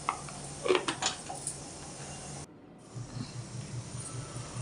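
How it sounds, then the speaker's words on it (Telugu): Telagapindi (sesame cake) curry simmering in a pot makes a faint, low bubbling hiss, with a few light utensil clinks near the start and a brief silent break midway. "చూసారా ఎలా మరుగుతుందో"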